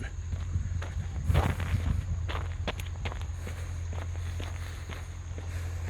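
Footsteps crunch and scuff steadily across open land beside the Bang Pakong River in Thailand, with a low steady hum running underneath and no talking.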